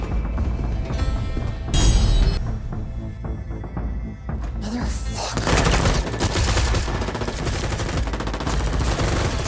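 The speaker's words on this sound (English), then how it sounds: "their bodies torn apart by gunfire" Dense, continuous automatic gunfire rattles through a film action scene, with rapid overlapping bursts and heavy low thumps, loud throughout with no pause.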